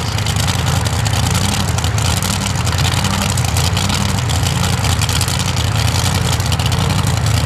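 A drag racing car's engine roars loud and steady at a 2008 spring nationals qualifying event, a continuous broadband drone with no talk over it.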